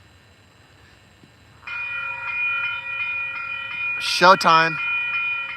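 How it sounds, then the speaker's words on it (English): Amtrak passenger train at Webster Groves, arriving with a sustained rumble and a loud multi-tone horn blast partway through, after a brief spoken word at the start. "It's Amtrak."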